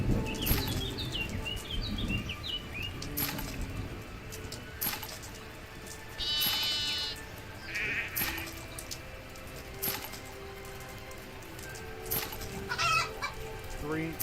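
Farm chickens clucking in the video game The Quinnfall, with scattered soft clucks and squawks repeating over a quiet ambient bed, along with occasional coin-like clinks and bleats from goats nearby.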